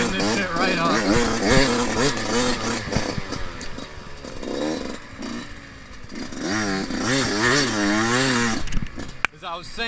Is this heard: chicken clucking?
no